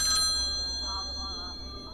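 A telephone rings in an Arabic horror video game, a steady electronic ringtone that holds at moderate loudness for two seconds over a low game hum.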